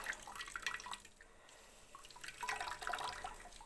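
Herbal juice strained and squeezed out by hand, trickling and dripping in irregular wet bursts that swell and fade, fairly close and quiet, with no voices.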